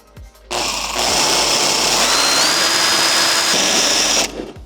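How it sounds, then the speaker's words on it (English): A power drill bores a hole in a car panel before an air saw cut, starting abruptly with a loud, close whine that holds steady, rises slightly in pitch midway, then stops. "I'm gonna drill a hole so I can get my air saw in"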